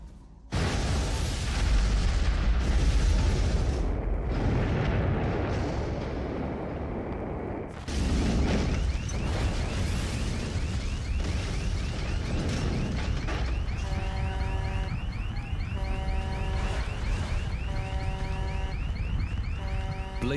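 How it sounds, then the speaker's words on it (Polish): A massive explosion on the Deepwater Horizon offshore oil rig erupts in a loud sustained roar, then a second blast, followed by steady rumbling and a repeating alarm tone. "Wystarczy jedna iskra, żeby nastąpił wybuch."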